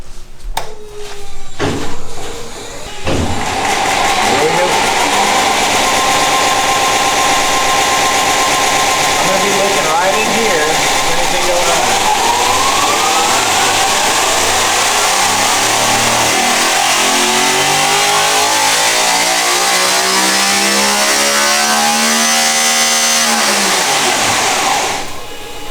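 A 640ci big-block Pro Mod engine barks through a few sharp blips, then roars at full throttle for about twenty seconds, its pitch climbing through gear changes before cutting off abruptly.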